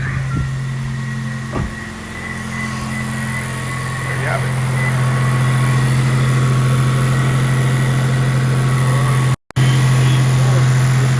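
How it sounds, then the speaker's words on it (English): A 2025 Toyota 4Runner TRD Pro engine turns over and settles into a steady low idle hum, with someone speaking briefly over it near the start. "Start the car."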